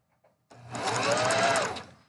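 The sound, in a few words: sewing machine stitching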